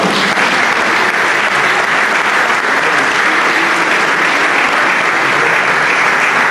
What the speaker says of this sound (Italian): fate pure l'applauso perché la Cecilia Allegri oggi diventa più matura